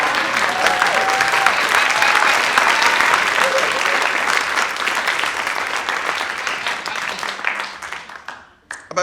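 A class of 7-year-old children bursting into loud, sustained applause, dense and close, tapering off toward the end.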